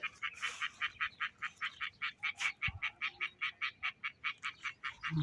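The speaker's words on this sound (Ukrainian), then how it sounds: "Жабка квакає. Це така квакуха зелена." Green frog croaking in a spring garden, a long regular series of about twenty rhythmic croaks at moderate distance, fairly faint, with no talk over it.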